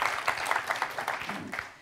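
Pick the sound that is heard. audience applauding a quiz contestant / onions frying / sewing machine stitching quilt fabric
audience applauding a quiz contestant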